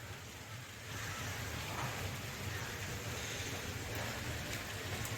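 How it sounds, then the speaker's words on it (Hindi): Steady rain falling in bad weather, a dense continuous hiss that swells slightly after the first second and stays even throughout, with no voices. "देखिए बारिश हो रही है।"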